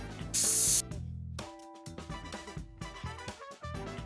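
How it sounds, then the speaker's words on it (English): A single sharp burst of airbrush spray hisses for about half a second as light colour is back-sprayed into a chocolate bonbon mould, then gives way to background music. "we're going to back spray the negative space in the coconut bonbon using a lighter color"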